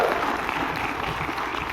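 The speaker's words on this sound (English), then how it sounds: "So put your hands together and clap, clap, clap, clap, clap, clap, clap." Audience applause for speaker Regina Ascension at a home care business bootcamp, a steady wash of clapping held at an even level for under two seconds with no voices.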